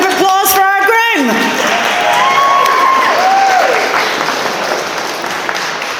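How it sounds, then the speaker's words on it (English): Wedding guests at the speeches clap and cheer loudly for the groom, a dense burst of applause with whoops and voices shouting over it, easing slightly toward the end. "Ladies and gentlemen, a big round of applause for our groom."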